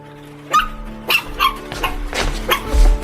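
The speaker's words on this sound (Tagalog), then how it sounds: "Hala, tuta!" A wet, rain-soaked puppy gives a series of short, sharp yips and barks, about six in quick irregular succession, close and clear with no talk over them.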